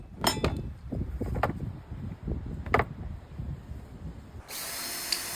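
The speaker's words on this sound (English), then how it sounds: "Here I'm just using my DeWalt drill to remove some rotten boards" DeWalt power drill backing screws out of rotten wooden fence boards, in several short whirring bursts with clinks in between, close up, with a brief louder whine at the end.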